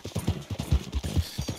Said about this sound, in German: Ah, weibliches Pferd sogar.